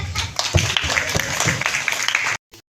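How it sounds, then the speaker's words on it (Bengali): Audience applause at an art school's annual painting exhibition and award event, a sustained round of clapping from a crowd with some voices mixed in, cutting off abruptly at the end. "তালি দিবেন"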